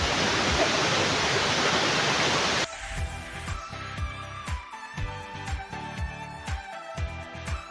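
Kembang Soka waterfall gives a loud, dense, continuous roar of falling water for the first few seconds before it cuts abruptly to unrelated rhythmic sounds.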